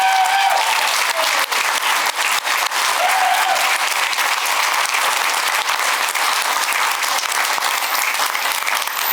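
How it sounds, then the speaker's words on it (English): Sustained, loud applause from a luncheon audience honoring university alumni, a dense even clatter of many hands with a few sharper claps, continuing throughout without speech. "How about a round of applause for our alum?"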